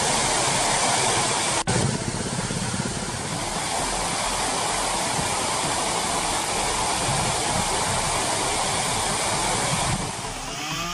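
Waterfalls at Kodaikanal roar in a loud, steady, broadband rush of falling water that stays unbroken throughout, heard up close.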